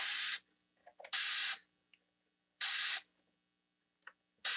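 Several sharp bursts of spray hiss from an aerosol can of gold spray paint coating an egg, each about half a second long, separated by short pauses with faint handling noises.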